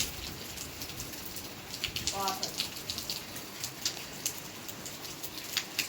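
Steady rain falling outdoors during the first monsoon rain, a soft continuous patter with scattered droplet hits, fairly faint, with a brief chirp-like sound partway through.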